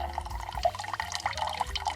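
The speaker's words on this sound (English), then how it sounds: "Yep, that's water filtering." Water drips through a camping filter at a wild campsite, small distinct drops plinking at an irregular but steady pace, close and fairly quiet.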